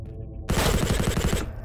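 A Mac-10 submachine gun firing in the VR game Shotwood, a single loud, very rapid burst of about a second, the shots blurring into a rattling stream.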